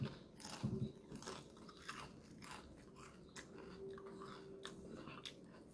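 Loud, close crunching bites into a crisp egg roll followed by steady chewing, no talking, repeated crackles spread through the clip.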